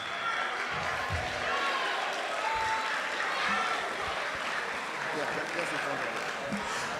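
Crowd applause and cheering in a packed hall at a national science and maths quiz grand finale, a continuous wash of clapping and voices with a tone sounding faintly underneath.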